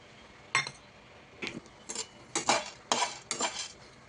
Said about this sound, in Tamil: பொட்டுக்கடலையும் போட்டு லைட்டாக வறுத்துக்கலாம்